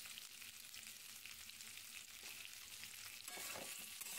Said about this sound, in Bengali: তো এবার তেলে আমি ভালো করে একটু নুন আর হলুদ দিয়ে ভালো করে লাল লাল করে ভেজে নেব।